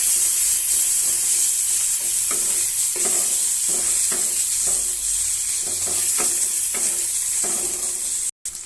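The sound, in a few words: fish oil stirred and sizzling in a pan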